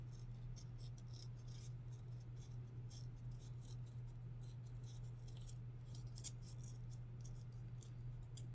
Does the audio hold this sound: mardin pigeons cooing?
no